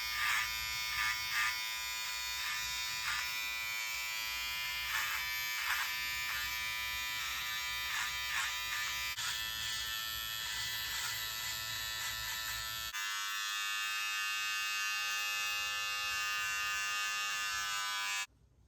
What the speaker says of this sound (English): Okay, so now we're going to go ahead and we're going to trim the back.